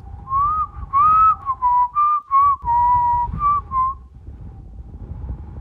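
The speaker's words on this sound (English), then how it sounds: "Catface Laguna, too, started whistling a tarantella" Someone whistles a lively tarantella, clear and close, the notes rising and falling in short phrases for about four seconds before trailing off.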